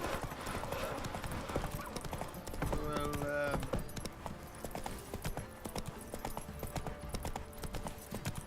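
Horse hooves clip-clop steadily as a horse is ridden in a video game, with a continuous rhythmic trot under a voice talking.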